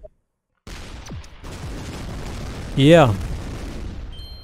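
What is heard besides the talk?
gunshots in a video game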